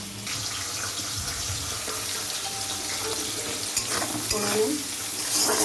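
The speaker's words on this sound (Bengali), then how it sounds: "নুন দিয়ে বিনসটা ভাজা বসিয়ে দিয়েছি" Green beans frying with salt in a home kitchen pan, a steady low hiss and sputter running throughout with scattered clinks and scrapes of stirring, close and fairly loud, with no talking.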